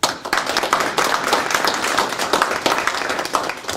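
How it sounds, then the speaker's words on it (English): Audience applause for speakers at a university colloquium, a lively round of clapping from a room of people, with individual claps standing out near the front, steady throughout. "I would like a warm applause for our speakers for the day"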